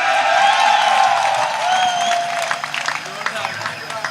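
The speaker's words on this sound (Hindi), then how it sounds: "ताली बजाओ जोर से यार" Audience at a Hindi poetry recital breaking into loud applause and cheering, a dense burst that gradually thins into scattered individual claps.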